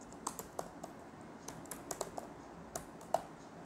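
Quiet typing on a computer keyboard while entering Tally Prime TDL code, a sparse, irregular string of soft key clicks heard close and alone with no voice.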